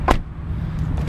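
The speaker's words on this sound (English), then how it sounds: "Just take a listen to the door closing." 2010 Acura RL car door closing, a single solid, soft thud at the start followed by a quiet cabin hum with faint small clicks.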